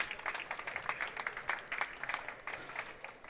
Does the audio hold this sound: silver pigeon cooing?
no